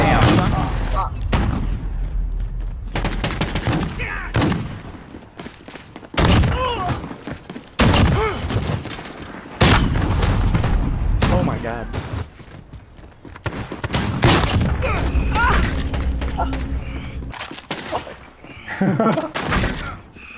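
Shotgun blasts ring out in a Call of Duty multiplayer match, a run of loud, sharp booms spaced irregularly, with players talking and shouting over the gunfire.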